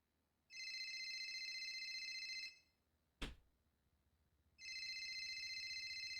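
A phone rings inside the GTA NoPixel roleplay game in two long electronic ringtone bursts. A sharp click or knock falls in the short gap between them. No one speaks.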